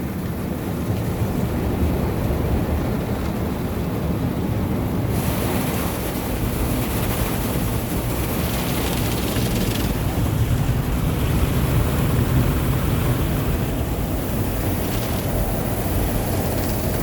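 Water pours and sprays from a split hose inside an automatic car wash, making a continuous rushing hiss that stays loud and even throughout.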